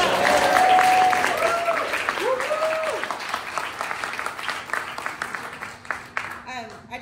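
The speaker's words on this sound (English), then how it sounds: "give another round of applause" An audience at a food and farm policy award ceremony applauds steadily, the clapping fading gradually while a voice speaks over it near the start.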